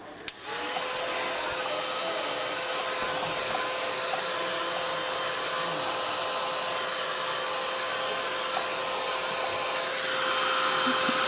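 A dryer blows steadily on a layer of a handmade card, a continuous loud whirring hum that starts after a brief click and runs alone without pause.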